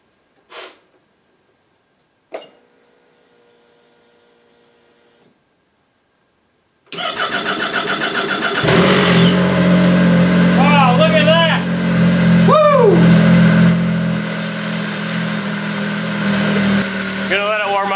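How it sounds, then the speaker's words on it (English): A 2015 Arctic Cat found in a barn, its fuel pump primed with a couple of faint clicks before the engine cranks, catches and settles into a loud steady idle, with a voice heard over it. "Will it start? prime the fuel pump a couple times."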